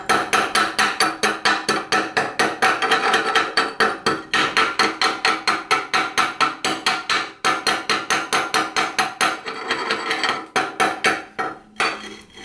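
Chipping hammer knocking weld slag off heavy flux-core welds, a fast run of sharp metallic taps repeating steadily and close, with brief pauses between bursts and no talk.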